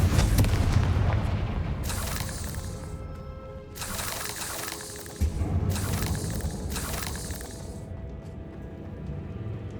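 Deep booming blasts from the Confringo spell in Hogwarts Legacy, three or four spaced explosions with bright crackling tails over a steady low rumble of game ambience.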